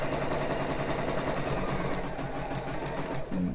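A sewing machine stitches around a bra piece in fast, even, buzzing rhythm, close and steady throughout, with a brief change in tone near the end.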